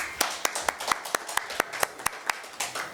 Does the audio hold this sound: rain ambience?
no